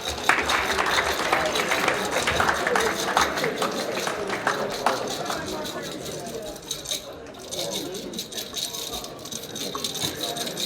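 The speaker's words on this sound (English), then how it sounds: "Please give a round of applause for Rabbi Yehuda Eisenbach." An audience gives a round of applause for Rabbi Yehuda Eisenbach at a Yom Ha'atzmaut event, steady dense clapping that carries on for several seconds before thinning a little, with voices mixed in.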